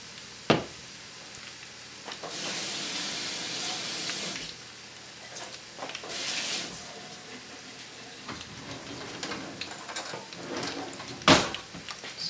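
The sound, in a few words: bean fritter (akara) batter frying in hot oil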